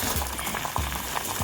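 An egg frying in a cast iron pan, giving a steady close sizzle and crackle with faint low bubbling pops throughout.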